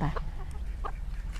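A chicken gives a few short, soft clucks scattered across a brief moment outdoors, with low background rumble underneath.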